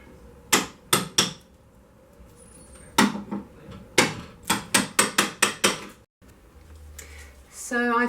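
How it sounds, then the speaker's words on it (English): Sharp metallic hammer strikes knocking out old window putty from stained glass, in uneven bursts, a few quick blows, a pause, then a rapid run of about ten hits, close and loud. "So I've been hammering away at putty"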